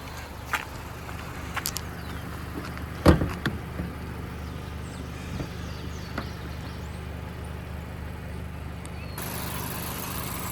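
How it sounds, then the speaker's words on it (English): A 2025 Mazda CX-5 has its hood released, giving a single sharp thunk partway through, with a few lighter clicks and handling noises around it against a quiet, steady background. "So I'm going to pop the hood."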